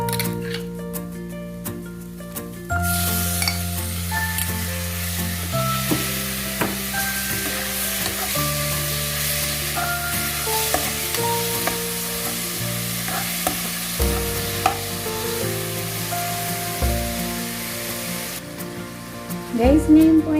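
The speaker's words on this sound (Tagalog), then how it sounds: "Ngayon, ilagay na natin yung karne guys." Beef added to a pan of cooked garlic and onion, sizzling loudly and steadily with scraping stirs and occasional clinks, close, under intermittent background hum.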